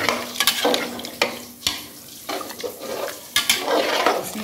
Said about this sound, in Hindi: आलू मटर भून गया है, पानी ऐड कर देंगे।